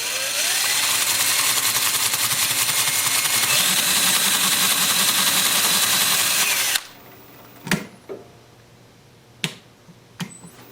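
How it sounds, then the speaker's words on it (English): A Sandoflex sander runs in reverse against the bark of a live-edge wood trivet on a lathe. Its loud, steady abrasive whir lasts about seven seconds, then cuts off, and a few sharp knocks and clicks follow. "I'm gonna start by sanding the bark with my Sandoflex sander"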